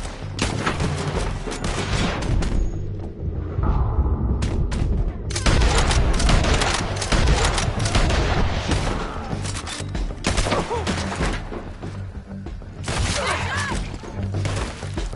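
Dense, continuous gunfire from Red Dead Redemption, loud and close, with overlapping shots, booms and rattling impacts for the whole stretch.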